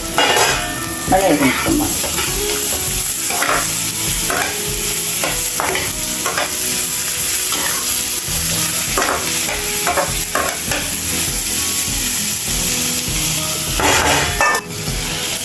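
Raw mango pieces and onions frying in a pan for a curry, loud continuous sizzling with repeated scraping and clanking of a spatula stirring against the metal pan, with a brief spoken phrase.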